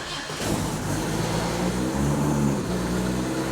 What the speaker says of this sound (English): I do like it with the street exhaust.